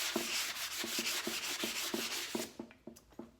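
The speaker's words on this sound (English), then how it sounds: "I'll sand, like the E kind of got messed up, so I'll kind of sand that" Hand sanding of painted wooden letters, a rhythmic back-and-forth rubbing with about a dozen evenly spaced scratchy strokes, close and clear, fading toward the end.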